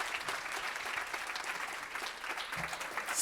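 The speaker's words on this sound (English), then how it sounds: "give them a big round of applause" Audience applause at a panel event on engaging girls in STEM, a brief, even burst of crowd clapping that fills the whole moment with no talking over it.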